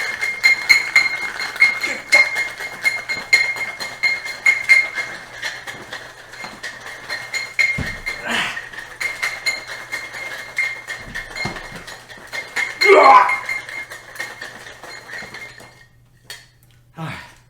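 Garlic cloves with their ends trimmed rattle and clink inside a small glass covered by a shaker, tapping steadily and briskly for several seconds with a few heavier knocks.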